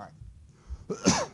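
A single sneeze bursts out in a lecture room during a structural beam design class, short and moderately loud against a quiet room hum, with a voice speaking briefly over it.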